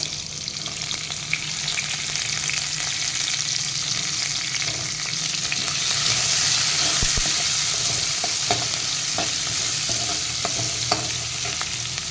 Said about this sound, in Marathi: या तेलामध्ये ना आपण पहिलं कांदा परतून घेऊया